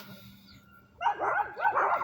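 Small chihuahuas bark outdoors on muddy, grassy ground. After a quiet second, a burst of quick, high-pitched yips and barks follows, close and fairly loud.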